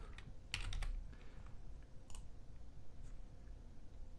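Keys tapped on a computer keyboard in a quiet room: a brief, faint burst of clicks early on, then scattered single taps over a low background hiss.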